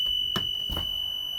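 A school bus emergency exit window buzzer gives two short electronic buzzes, about a third of a second apart, against a steady high electronic tone in the quiet bus interior.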